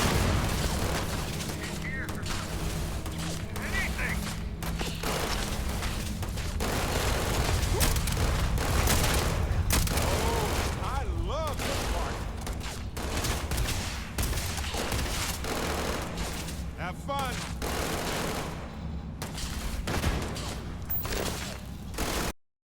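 Heavy gunfire in a shooter game on very difficult, bursts of rapid shots and booming blasts stacked on a constant rumble, loud and close, with someone talking over parts of it.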